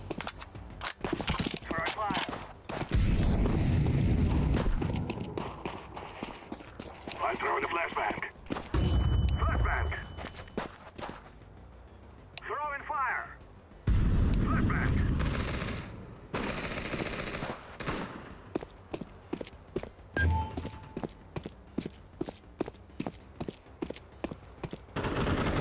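Rapid bursts of automatic gunfire and sharp single shots from Counter-Strike 2 combat, with a louder grenade blast among them, close and punchy, interleaved with excited talk.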